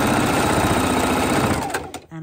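A sewing machine stitching the seam of a fabric coffee cozy: a fast, steady mechanical whirr of needle strokes that slows and stops near the end.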